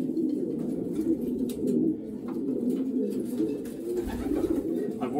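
Racing pigeons being handled and checked before basketing give a steady, close, low cooing that runs continuously, with a brief dip in the middle.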